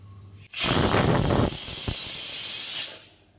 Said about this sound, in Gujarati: કુકરનું ઢાંકણ બંધ કરી અને આની 3 વિસલ વગાડવાની છે